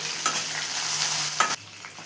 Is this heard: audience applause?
no